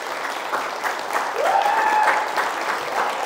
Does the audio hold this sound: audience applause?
yes